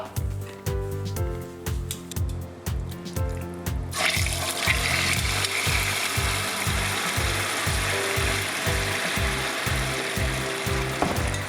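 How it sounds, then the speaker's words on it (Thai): A rhythmic mechanical thumping runs throughout, then a loud, crackling sizzle of red tilapia hitting hot oil bursts in and keeps fizzing steadily. "เมื่อน้ำมันเริ่มร้อนเรียบร้อยแล้วเรามาทอดปลากันเลยครับ"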